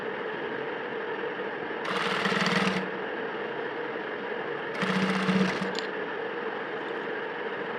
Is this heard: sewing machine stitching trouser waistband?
yes